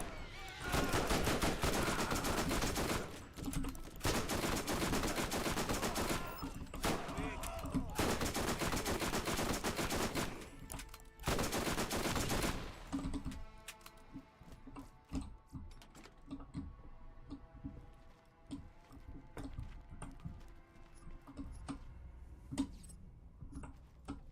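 Sustained bursts of rapid gunfire from a Borderlands firefight, loud and dense for the first half, then giving way to scattered shots and clatter under quieter game ambience.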